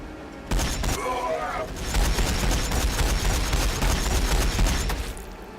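Massed gunfire from units in Warhammer 40,000 Battlesector: a thick, continuous barrage of overlapping shots and booms, loud and sustained after a brief quieter start.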